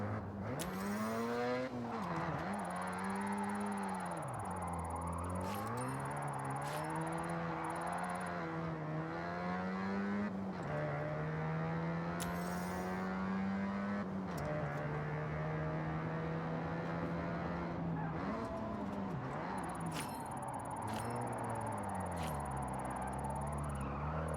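Car engine in the Forza Horizon 6 racing game, droning loudly and continuously with rising and falling revs as the car drifts through long slides, steady throughout with no voices.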